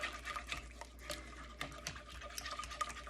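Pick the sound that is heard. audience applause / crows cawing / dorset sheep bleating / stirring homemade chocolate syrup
stirring homemade chocolate syrup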